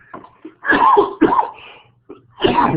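Several throaty coughs and throat-clearing bursts from a webinar presenter with a dry throat, close and loud, in two clusters separated by a brief pause.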